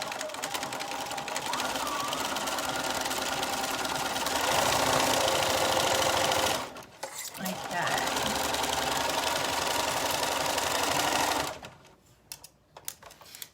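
A sewing machine runs a stretch stitch along a side seam with a 1.5 centimeter allowance on stretch fabric, a fast, loud mechanical whirr that stops briefly around the middle and cuts out near the end.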